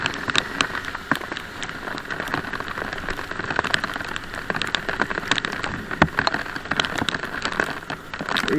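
Steady rain falls during a motorcycle ride through Kolkata streets, a dense, even patter of drops striking surfaces close by. Crackly splashes run continuously with no talking.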